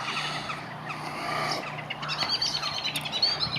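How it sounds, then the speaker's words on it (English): A blackbird calls outdoors in winter with other birds around it, giving short chirps and clucks at moderate distance over a steady background hiss and faint traffic rumble. "That's a blackbird, a genuine blackbird calling."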